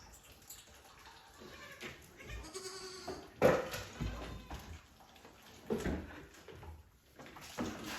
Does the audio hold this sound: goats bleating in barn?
yes